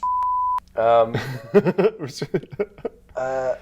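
A steady electronic censor beep sounds alone, followed by someone talking, then more voiced sound at the end.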